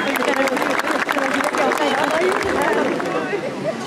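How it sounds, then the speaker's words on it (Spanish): Audience at a Chilean folk dance festival breaks into steady, dense applause, a continuous wash of clapping mixed with crowd voices and some tonal sound underneath. "Lo recibimos con un fuerte aplauso."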